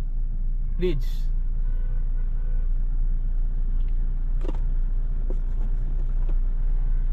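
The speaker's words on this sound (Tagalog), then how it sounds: "Traffic na ngayon dito sa Riyadh. Kapag ganyan mga weekend, maraming sakyan dito, sobra." Steady low rumble of heavy weekend road traffic in Riyadh, Saudi Arabia, heard from inside a car with a brief horn or brake squeal and a few passing vehicles; people speak briefly over it.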